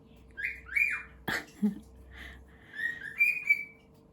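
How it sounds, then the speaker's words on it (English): Two pet cockatiels chirp and whistle a sung tune, bright rising calls in short phrases with a brief squawk in the middle, fairly close and alone over a low steady hum. "what you're hearing now in the background is our 2 birds, 2 cockatiels,"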